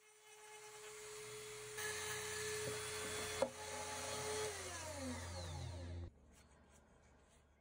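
A Dremel rotary tool whines steadily at high speed, its pitch shifting as it power-carves wood, then winds down and cuts off near the end.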